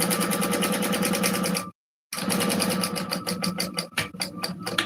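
Sewing machine stitching a shoulder bag, running in loud continuous bursts of rapid needle strokes, stopping briefly for a short silent pause, then starting again with slightly uneven, stuttering stitching.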